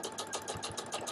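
A sewing machine stitches a skirt being taken in, its needle running in a steady fast rhythmic whir, close and fairly loud, with no talk.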